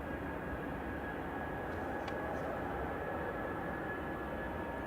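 A Eurowings airliner departing Manchester Airport for Stuttgart sends out a steady, moderately loud jet rumble with a faint whine on top, continuous and unbroken, no voices present.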